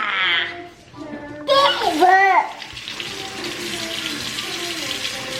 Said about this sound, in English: We're gonna wash our hands